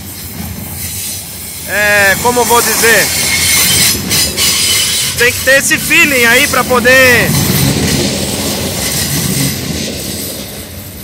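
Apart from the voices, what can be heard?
train braking while descending the Serra do Mar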